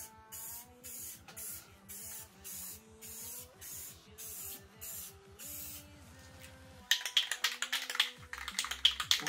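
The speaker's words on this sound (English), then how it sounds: "when you spray on this surface, you're naturally just gonna get overspray on the cupped edge" Short hissing bursts of spray paint on a PlayStation 5 console panel, a rapid series of close pulses, then a pause and louder, longer sprays toward the end.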